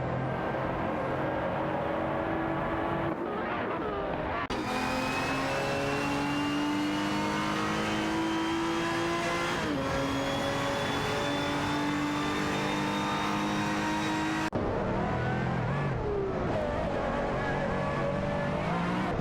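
Race car engines drone loudly and continuously in an AI race as cars accelerate and overtake, their pitch climbing and shifting with an abrupt change in engine tone partway through, with no talking.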